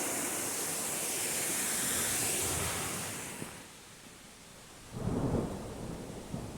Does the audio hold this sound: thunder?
yes